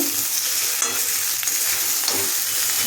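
Steady crackling sizzle of catla fish belly pieces frying in hot oil, continuous and close, with a few soft scraping stirs.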